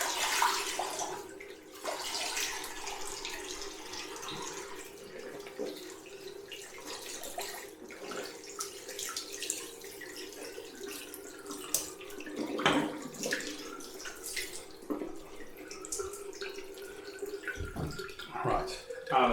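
Running cold water splashes and trickles close by in a sink, with intermittent bursts of splashing as hands wash a face.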